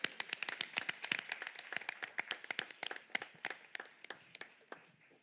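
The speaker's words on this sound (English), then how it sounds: "Let's give them another round of applause." Sparse applause at a school board meeting after a performance: a small group of people clapping in distinct, crisp individual claps, moderately distant, keeping a loose uneven rhythm throughout.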